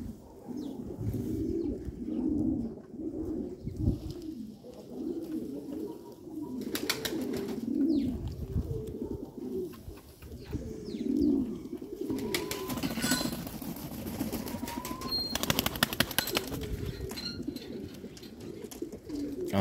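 Banat-breed pigeons cooing for nearly twenty seconds, soft repeated low rolling coos in steady succession, close by, with brief higher chirps and clatter from other birds later on.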